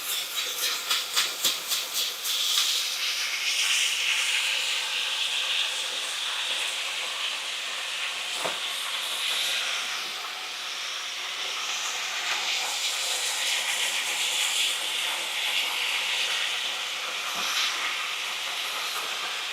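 Food searing in a hot pan during holiday cooking: a steady, bright broadband sizzle that holds throughout, with a few faint clicks and thumps, close by and without talk.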